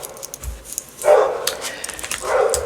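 A dog barks indoors in a home, giving two loud, distinct bursts about a second apart that sit clearly above quiet background noise, with no speech over them.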